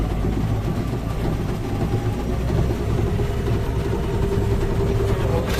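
A tractor's engine revs up while driving a Rhino SD15 rotary cutter, giving a steady, loud, low-pitched drone with a continuous mechanical rumble throughout and no voices.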